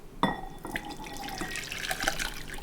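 Lukewarm milk is poured into a bowl for kolache dough, a close, gentle liquid stream with a small splash at the start and soft trickling after.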